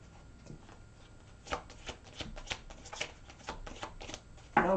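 Tarot cards shuffled by hand in a series of crisp riffling bursts and soft slaps, with a sharper knock at the end and no speech.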